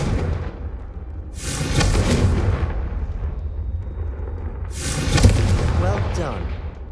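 Two heavy fiery blasts from the Confringo blasting spell in Hogwarts Legacy, each a loud roaring burst lasting over a second, separated by a short lull of rumbling ambience.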